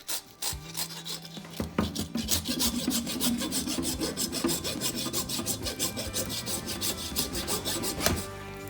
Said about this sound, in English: we're going to take the hacksaw and we're going to cut through the bone to separate it in half